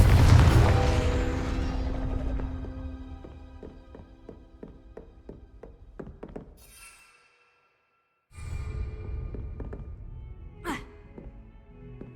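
A Confringo spell explosion in Hogwarts Legacy bursts loudly and then decays into a ringing, rattling tail of scattered taps. Silence follows, then a second low rumble with a sharp high crack, all without talking.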